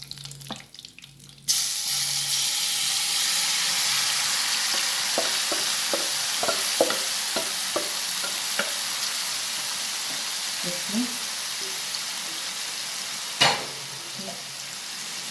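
Liver sizzles loudly in hot coconut oil with curry leaves, the frying starting abruptly and hissing steadily while a spoon stirs with scattered light clicks and scrapes close by.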